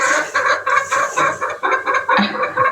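A single hen clucks close by in a quick series of short, loud, throaty clucks with brief gaps between bursts.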